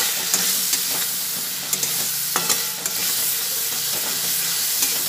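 A chhena curry sizzles in a pan while it is stirred, a steady loud frying hiss broken by repeated short clicks and scrapes of the spatula. No talking.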